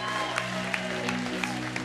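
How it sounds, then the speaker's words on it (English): A church congregation gives a round of hand claps during a worship service, brief scattered clapping over a sustained organ-like tone, with a few sharper individual claps standing out. "Come on, give him a hand clap,"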